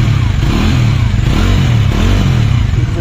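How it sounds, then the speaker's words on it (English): A 2023 Bajaj Dominar 400 motorcycle exhaust rumbles steadily nearby, a loud, low, throbbing engine note holding at a constant idle without any talking. "And here's the exhaust note."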